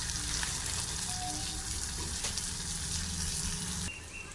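Chopped onion sizzling in hot prawn oil with cinnamon, cardamom and cloves, a loud continuous frying hiss with occasional stirring clinks, quieting slightly near the end.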